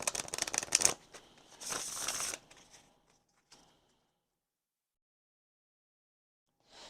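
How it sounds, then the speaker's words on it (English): Oracle cards being shuffled by hand, giving fast papery riffling bursts for about two seconds. A few soft handling sounds follow, then near silence. "so I can pull some other oracle cards real quick"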